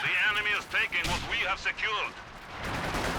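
Grenade blast and bursts of gunfire from a Company of Heroes 2 battle, sharp reports landing in quick succession under continuous talk, with a rougher explosive rumble toward the end.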